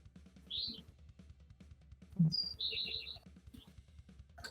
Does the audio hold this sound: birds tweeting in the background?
yes